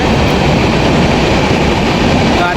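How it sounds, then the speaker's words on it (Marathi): A train rolls along the rails on a journey toward Dadar in Mumbai, a loud close rumble and dense rattle from the coaches that holds steady without pause, with no talking over it. "आता ट्रेनचा प्रवास तुम्हाला दाखवतो."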